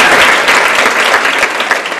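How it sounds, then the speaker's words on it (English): Luncheon audience applauding co-sponsors of an Ohio women's event, a dense steady wash of many hands clapping at once, fairly loud and sustained with no talk over it. "let's give a round of applause to all of our co-sponsors"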